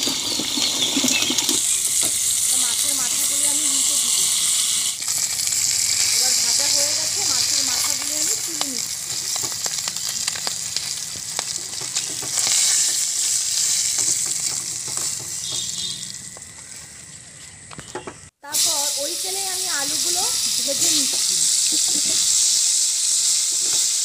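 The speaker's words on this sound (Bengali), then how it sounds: "মাছের মাথাগুলি প্রায় হয়ে এসছে, মাছের মাথাগুলি ভাজা হোক" Fish heads frying in a pan give a loud, steady sizzle and hiss, with occasional stirring and someone speaking over it, broken by a brief drop to silence near the end.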